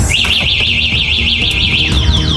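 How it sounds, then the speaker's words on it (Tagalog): An NWOW EMC-Golf electric bike's anti-theft alarm blares nearby, a loud, steady warbling electronic siren rising and falling in rapid regular sweeps, with faint beeps and outdoor street noise underneath. "Nag-alarm na ang ating e-bike."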